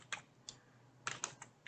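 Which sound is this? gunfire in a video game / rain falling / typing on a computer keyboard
typing on a computer keyboard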